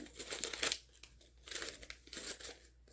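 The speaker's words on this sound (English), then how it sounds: "There will be crinkling, so I apologize if you don't enjoy the sound of crinkling." Packaging is pulled open up close with soft bursts of crinkling and crunching plastic in three or four quiet clusters, no talking over it.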